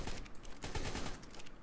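Rapid gunfire in ARK: Survival Evolved, aimed at a wolf: a dense, continuous burst of shots at moderate loudness with no talking.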